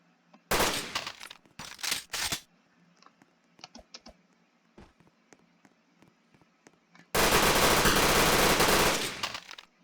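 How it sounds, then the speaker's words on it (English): Video game gunfire from a newly acquired gun sounds in loud, dense bursts: two short volleys near the start, scattered small clicks in between, then a longer sustained burst of rapid fire before it cuts off. "A good person to test this new gun on."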